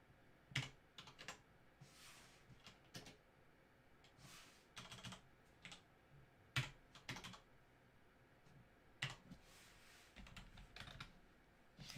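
Fingers tap out bursts of typing on a computer keyboard, quiet clicks in irregular clusters separated by short pauses, heard close in a calm room with no voices.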